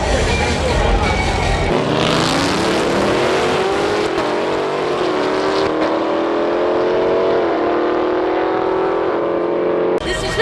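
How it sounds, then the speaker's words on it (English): A Corvette and a Charger race, their engines roaring and climbing steadily in pitch as they accelerate hard, loud and close, before the sound cuts off abruptly. "Right now, we're doing Corvette versus Charger."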